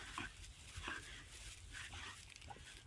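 A dog whines and calls in a yard with a pit bull nearby, giving soft, high whimpers in short bursts against quiet background noise, fairly faint and a little distant.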